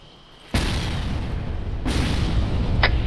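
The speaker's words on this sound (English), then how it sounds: "Mortars, mortars, mortars." Mortar rounds exploding during a military field training exercise: two sudden heavy booms, the second about a second and a half after the first, each followed by a sustained loud rumbling roar, with no talking over it.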